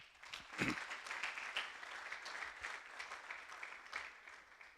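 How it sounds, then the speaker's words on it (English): Audience applause at a gathering, a dense patter of clapping that holds steady without a break, moderately close and fairly quiet overall. "let us clap for ourselves"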